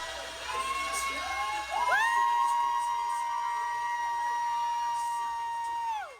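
A crowd at the Windmill 2.0 cheers for South Carolina and Aaliyah, with loud, sustained whoops, high-pitched shouts and yells that rise sharply near the two-second mark and keep going at full strength.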